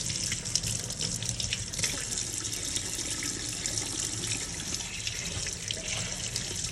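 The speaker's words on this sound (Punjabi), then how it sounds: "ਤੇ ਹੁਣ ਆਪਾਂ ਕਰਾਂਗੇ ਇਹਨੂੰ ਵਾਸ਼ ਇਹਨੂੰ ਵਾਸ਼ ਕਰਕੇ ਚੰਗੀ ਤਰ੍ਹਾਂ ਇਹਨੂੰ ਸਾਫ਼ ਕਰ ਲਾਂਗੇ ਆਪਾਂ" Tap water runs in a steady hissing stream as an eggplant is washed for tandoori bharta, constant and fairly quiet, with no talking.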